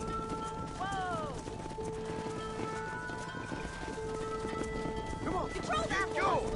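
Horses in the Red Dead Redemption 2 video game clip-clop steadily as a herd is driven, with whinnies, background music and people shouting over them.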